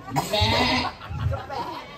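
Goat bleating during a Balinese bondres comic performance, a couple of loud wavering bleats rising and falling over about two seconds, with some talk in the background.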